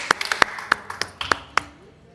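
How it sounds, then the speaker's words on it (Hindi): A small group claps hands in a sparse, uneven burst of several sharp claps over about two seconds, close and fairly loud, with a voice in the background. "ठोका ताली।"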